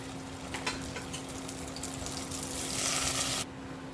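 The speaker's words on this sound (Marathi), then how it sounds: "नॉनस्टिकच्या कढईत मी एक चमचा तूप टाकलं आहे त्याच्यात हे सर्व सारण टाकणार आहे" Puran filling cooks in a spoonful of ghee in a nonstick pan, giving a steady low sizzle and faint stirring scrapes that swell briefly louder near the end before dropping back.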